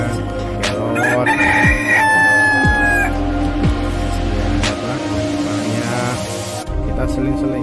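A free-range village rooster on Madura island crows loudly and close by, one long drawn-out call over steady farmyard noise and low background sounds, with people talking.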